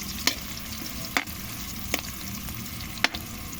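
Onions sizzle in hot oil in a pan as they are fried for a mussel dish, a steady close hiss broken by a few sharp stirring taps, with no voices.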